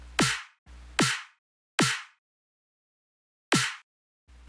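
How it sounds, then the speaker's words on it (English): Snare drum sample layered with a clap hits in a loose, uneven pattern of about five sharp strikes. Each one has a bright crack and a quick decay, heard alone and up close with no talking. "grabbed another snare sample from one of my previous sample packs"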